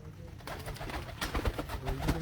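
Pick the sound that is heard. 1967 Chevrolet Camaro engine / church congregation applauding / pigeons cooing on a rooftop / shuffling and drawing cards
pigeons cooing on a rooftop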